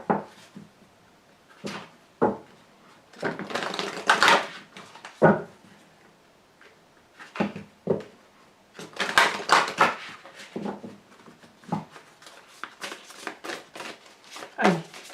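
Tarot cards are shuffled and drawn in close, papery bursts of riffling and slapping that come and go irregularly, with someone talking in between.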